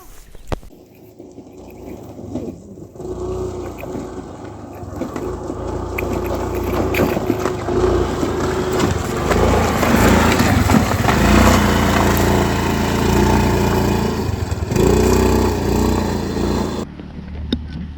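Off-road bike engine on a rough hill track near Pandala Hills, Gurugram, droning steadily and building as it labors uphill, loud and sustained with a faint voice briefly underneath.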